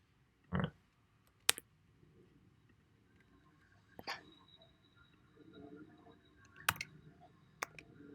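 A few scattered clicks of typing on a computer keyboard in a quiet room, isolated taps and short bursts spread out with long pauses, faint and close.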